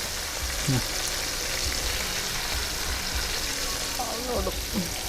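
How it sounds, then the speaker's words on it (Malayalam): Kerala-style prawns skewered on thin coconut-leaf midribs fry in hot oil, a dense, continuous loud sizzle throughout, with a faint voice briefly heard beneath it. "എണ്ണ നന്നായിട്ട് തിളച്ചിട്ടുണ്ട് ഇനി നമുക്ക് ഓരോന്ന് അതിനകത്തോട്ട് മെല്ലെ ഇടാം"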